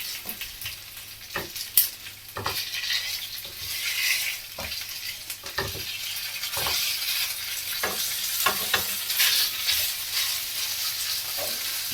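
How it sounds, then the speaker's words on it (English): Sausage meat fries in a pan in its own released fat, a steady close sizzle with intermittent spoon or spatula scrapes and knocks as it is stirred. "it's sausage meat, it will actually release its own amount of fat into the pan, so it'll cook in there"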